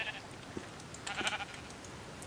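Sheep in a blocky building video game bleat a few times in short, clear calls, close and moderately loud with no talking over them.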